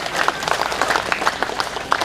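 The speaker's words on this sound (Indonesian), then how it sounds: "Tepuk tangan buat beliau." A crowd claps for a dignitary at the inauguration of a suspension bridge in a rural village in Muna, with scattered, uneven hand claps that continue briefly at a moderate distance.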